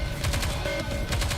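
Gunfire in the video game Nikke, rapid repeated shots in a tight rhythmic burst, loud and close against a steady electronic background with a brief tonal beep.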